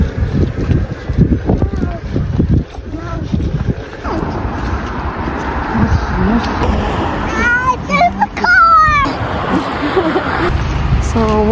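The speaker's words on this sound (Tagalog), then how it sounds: "Ah, so windy!" Strong gusty wind buffets the microphone at a park in Japan, a loud rushing roar that swells and fades, with people chatting underneath.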